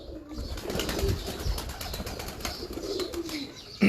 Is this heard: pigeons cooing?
yes